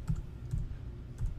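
A few soft keystrokes as a DrupalPro user password is entered on a computer keyboard, a short cluster of clicks in quiet surroundings with no talk.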